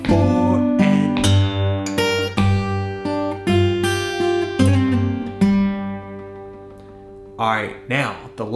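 Slow delta blues lick on guitar, combining bass notes with rhythm and lead lines, plucked notes ringing out one after another in a steady, unhurried rhythm, played alone and close.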